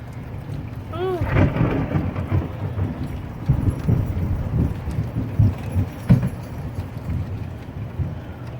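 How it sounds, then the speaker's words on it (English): A rolling thunderstorm, with deep low rumbles of thunder and a steady hiss of rain, plus scattered nearby knocks and a brief short chirp early on. "It's raining in our little neck of the woods."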